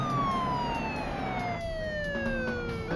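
A police car siren wails loud and steady with a long falling sweep, heard from close by over road and engine noise.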